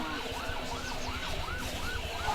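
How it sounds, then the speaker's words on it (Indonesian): A fire engine siren wails up and down in a repeating sweep, sounding at a moderate distance and fairly faint, with no talking. "Ibu dengarlah suara pemadam itu rame banget"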